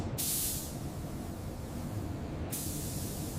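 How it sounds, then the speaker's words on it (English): Spray gun applying primer to a 1989 Batmobile body, a steady close hiss with two bright bursts of spray, one at the start and another near the end. "Primer is sprayed evenly over the entire Batmobile body."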